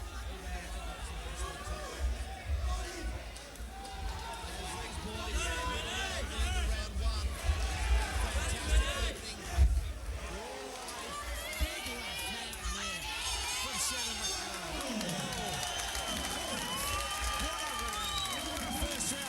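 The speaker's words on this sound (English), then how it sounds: "The crowd are on their feet" A packed boxing arena crowd in Fight Night 2004 roars steadily as spectators rise to their feet, a dense wall of cheering and shouting voices that holds for the whole stretch.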